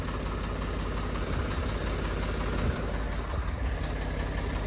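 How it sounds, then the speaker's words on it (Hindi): A tractor engine running close by on a farm, a loud, steady low rumble with a constant mechanical drone and slight knocking texture throughout. "ये ट्रैक्टर अब भी आया है, वापस से फिर ले जा रहे हैं इसको।"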